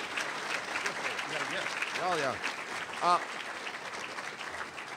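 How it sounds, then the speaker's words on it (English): An audience at a talk applauds in a moderately loud, continuous patter, with a short spoken remark and another voice rising briefly over the clapping. "John, round of applause."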